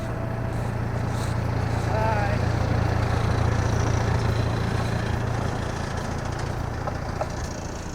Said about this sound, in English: Hold up right next to the splitter.